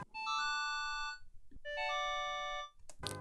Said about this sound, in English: A super fake sounding clarinet from this free plugin, which sounds very 80s.